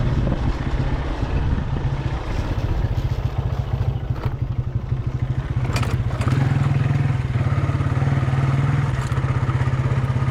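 A motorcycle rides along a road toward a village, its engine a steady, loud, rumbling drone throughout, rising slightly in intensity partway through.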